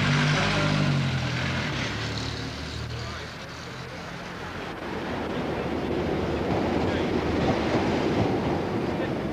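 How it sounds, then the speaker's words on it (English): The London train pulls into a station close by, engine hum giving way to a steady rumble and rattling wheels that swell as it nears. "The London train pulls in."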